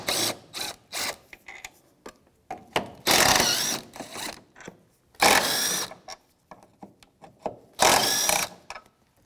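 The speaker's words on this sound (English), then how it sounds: "I'm going to take the two bolts out of the bracket here" Socket ratchet with a 14 mm socket loosening bracket bolts on a Volvo V70, heard as close, quick bursts of clicking ratcheting separated by pauses, with no talking.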